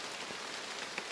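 Light drizzle falls in a forest after heavier rain has eased, making a faint, steady patter of small drops with no voices.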